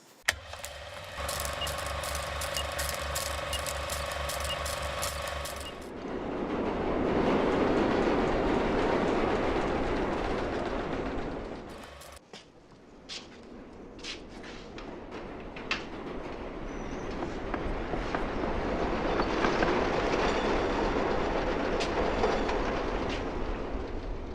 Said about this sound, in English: How often does the train go by?